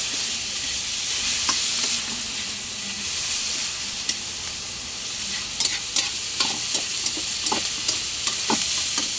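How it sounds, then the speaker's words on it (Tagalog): Chicken sizzles and fries steadily in a pan, with occasional sharp crackles and pops and some stirring scrapes, no voices. "Para maprito konti ang ating manok"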